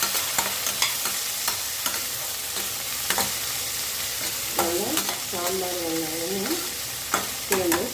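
Sambar onions sautéing in a pan, a steady sizzle with scattered stirring scrapes and a few ringing squeaks from the utensil, close, with no talking.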